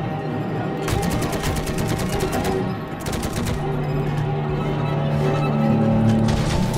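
Rapid machine gun bursts rattle in Heroes & Generals, two or three sustained volleys at close range over a steady engine-like drone, with no voices over the firing.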